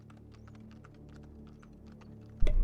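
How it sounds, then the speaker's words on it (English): Rapid, steady clacking from a loud computer keyboard, close and fairly quiet, ending in a sudden louder thump. "I had to switch keyboards this week, and this one's really loud when I type things"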